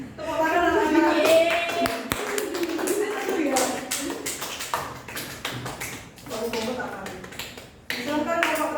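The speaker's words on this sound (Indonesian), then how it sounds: "Tepuk tangan anak-anak." Children clap in a classroom, a burst of sharp, rhythmic hand claps mixed with young voices chanting and talking throughout, fairly close and lively.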